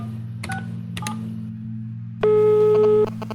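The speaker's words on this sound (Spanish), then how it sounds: "Don Alex marcó con manos temblorosas." Telephone keypad tones from an emergency phone as a number is dialed: two short beeps, then a longer sustained tone, over a steady low hum.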